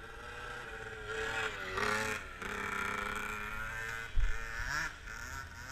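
A dirt bike engine running on a motocross circle track, a steady close buzzing drone that rises and falls in pitch as the throttle changes, with a brief clunk near the end.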